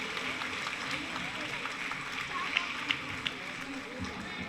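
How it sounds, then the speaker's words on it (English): A school annual day audience keeps up steady, dense applause at moderate volume, with a few sharper individual claps standing out near the end. "A clap once again, I think they deserve it"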